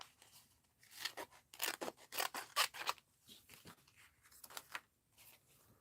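Small craft scissors snipping out transparent round paper stickers for an art journal, a run of quick crisp close-up cuts and rustles in bursts, with no talking.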